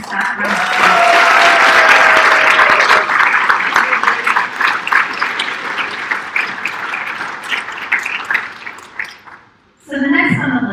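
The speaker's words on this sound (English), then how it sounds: "let's give all the administration staff a round of applause" A large audience applauding administration staff at a university animation and visual effects premiere, a sustained loud wash of clapping with some cheers that fades out, followed by a voice speaking.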